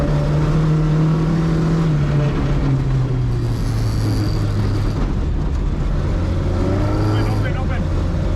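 Car engine droning loudly from inside the cabin as the car brakes straight and then swings right and left in a Scandinavian flick, the engine note sliding down and then rising, with people talking over it.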